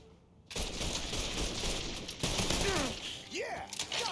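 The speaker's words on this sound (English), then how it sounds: "We're gonna shoot that asshole. Target sighted. Take a shot." Gunfire in the Mafia 3 video game, a dense fusillade of rapid shots filling the scene, with faint voices and game effects around them.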